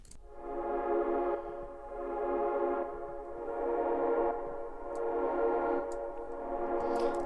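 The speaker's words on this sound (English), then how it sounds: "This is basically a big swell pad that has a lot of ducking, and it's moving from ear to ear with every swell." A big synth swell pad with heavy ducking rises and falls in slow, even waves about every two and a half seconds, the sound moving from ear to ear with each swell, smooth and alone.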